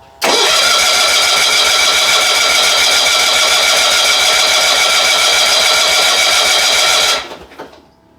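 A John Deere 70 skid-steer engine starts with choke and a little throttle, catching almost at once and running loud and steady with a fast throb for about seven seconds before cutting off abruptly.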